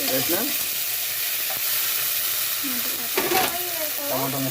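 Tomato pieces sizzle and hiss steadily in a pan while Maggi noodles are being prepared, with brief stirring scrapes and a faint voice in the background.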